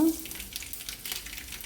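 Crushed garlic and mustard seeds frying in hot oil, a steady soft sizzle with faint crackling throughout, fairly quiet and close, with no voices.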